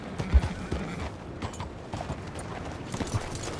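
Horse hooves clop in the Red Dead Redemption 2 video game on the streets of Saint Denis, a loose, uneven series of moderately loud steps with faint background ambience and no talk.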